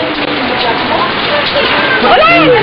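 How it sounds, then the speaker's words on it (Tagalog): Heavy rain pours in a dense, steady hiss, with voices shouting and talking over it throughout. "Lakas na ulan!"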